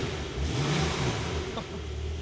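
A Porsche Turbo S engine roars loud and steady, swelling briefly into a heavier rev before settling back to a sustained throaty drone.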